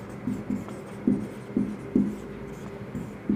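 Short taps and scratches of writing on a board in a classroom, a quick irregular run of strokes, close and moderately loud, with no talking.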